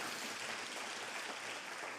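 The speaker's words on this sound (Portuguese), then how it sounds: "Se você crê, aplauda mais uma vez o nome de Jesus." A church congregation applauds together in steady, dense clapping that fills the whole moment evenly, with no voices standing out over it.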